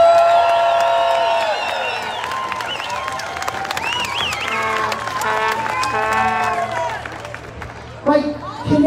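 An outdoor crowd at Canada Day opening ceremonies at the Supreme Court of Canada cheers and applauds for the liberation of Holland, a broad wash of clapping and voices, with a sharper burst of whoops near the end.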